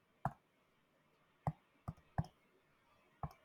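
Five sharp, separate keyboard clicks come at irregular intervals, close and crisp against near silence, as someone types an entry into Desmos.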